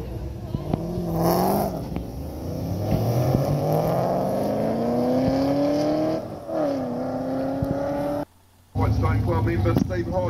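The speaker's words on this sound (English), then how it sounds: "So this Ford's actually got an LS1 in it. Man, it sounds good." A Ford fitted with an LS1 V8 revs hard at a drag strip, engine note climbing steadily through several long pulls with a brief gap, loud and close over crowd and track noise.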